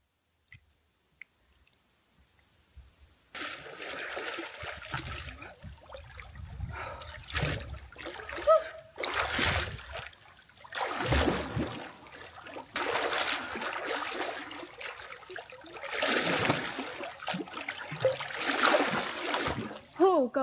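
Swimming in a shallow rocky pool with jagged rocks, legs kicking up repeated close splashes and sloshing water in uneven bursts after a few quiet seconds, a voice talking at moments.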